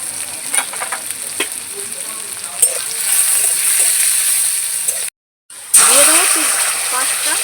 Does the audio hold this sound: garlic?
yes